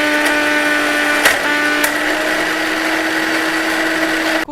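Kitchen mixer grinder blending pitted dates into a paste, a loud steady motor whine running close for several seconds before abruptly cutting off at the end.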